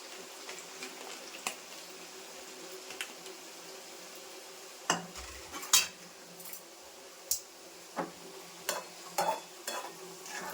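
Chicken pieces fry in a pan while a utensil stirs and scrapes through them, giving a string of clinks and knocks over a quiet, steady sizzle. No one speaks.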